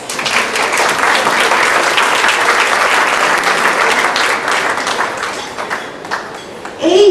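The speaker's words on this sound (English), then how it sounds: "So I'm going to ask a round of applause for Las Viudas Dinámicas." Applause from an audience honoring a group of older women called Las Viudas Dinámicas, loud sustained clapping that tapers near the end before a brief voice cuts in.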